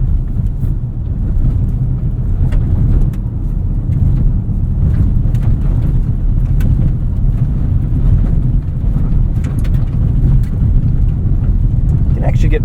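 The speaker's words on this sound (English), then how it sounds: "Let's take this off-road and see what it's like on the dirt." A 2022 Hyundai Tucson XRT AWD rolls off-road over dirt and potholes, giving a continuous low rumbling drone inside the cabin with scattered knocks and rattles from the rough ground.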